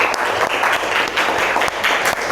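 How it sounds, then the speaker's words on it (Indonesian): A classroom group applauds at the end of a physics lesson, a dense run of rapid, overlapping hand claps, fairly loud and steady throughout with a few sharper individual claps standing out. "tepuk tangan buat kita semua"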